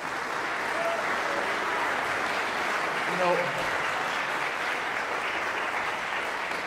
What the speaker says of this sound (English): And the last three, yes, let's clap.